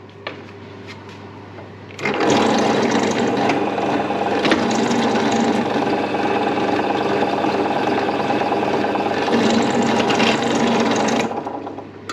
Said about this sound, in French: je perce avec un forêt de 5